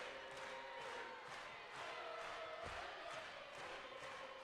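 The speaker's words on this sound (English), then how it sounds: "listen to the crowd roar for these Cats" A crowd roars for Kentucky at an NCAA volleyball regional semifinal against Cal Poly, a sustained dense cheer heard from a distance and fairly faint, steady throughout with no break.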